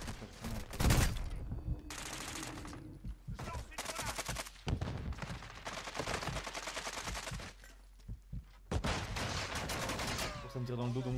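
Rapid gunfire bursts in the video game Call of Duty Modern Warfare, loud and repeated shots and clatter over several seconds, with a player's voice talking between volleys.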